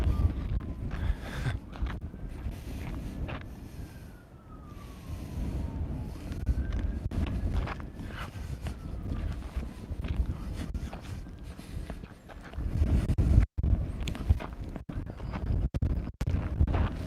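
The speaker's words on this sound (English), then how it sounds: "this wind is pretty strong right now" Strong outdoor wind buffets the microphone, producing a continuous low rumbling roar that swells and dips over the whole stretch, with a few sharper thumps of gusts near the end.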